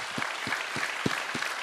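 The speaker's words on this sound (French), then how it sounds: "Les applaudissements spontanés traduisent les grandes attentes." Audience applause at a conference workshop on West African entrepreneurship: a small crowd claps in an even, moderately loud patter of overlapping claps.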